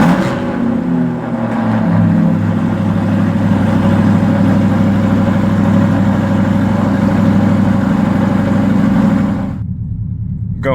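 An Audi R8 engine fires up by remote start and settles into a loud, close, throaty idle, the rumble holding steady for several seconds before cutting away abruptly near the end.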